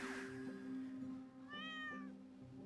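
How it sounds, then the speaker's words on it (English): A cat meowing in the farming video game Stardew Valley, coming from the water, with one short rising-then-falling meow standing clear over a steady game music bed. "Something is meowing in the water."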